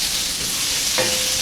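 Korean-style beef tripe sizzles steadily and loudly in a hot pan, a dense, close frying hiss that stays constant while two spatulas flip the pieces, with a faint clink near the end and no talk.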